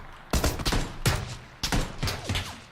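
Bursts of gunfire in the battle game PUBG, two clusters of several sharp, loud rapid shots separated by a short pause.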